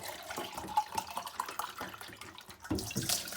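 A can of water splashes and gurgles into a pot of Greek lentil soup, a close continuous pour lasting a few seconds with a fuller splash near the end.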